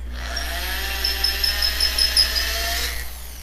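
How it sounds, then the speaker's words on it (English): A DeWalt variable-speed corded drill whines loudly and steadily in a workshop as it bores through a workpiece, its pitch wavering slightly for about three seconds before winding down. "invest in a really good variable speed corded drill"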